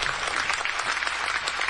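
A studio audience at a comedy show claps and cheers in a steady, dense burst, many hands together at moderate volume with no talk over it.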